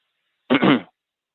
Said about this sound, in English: I like to cough when I get some unknown numbers calling back.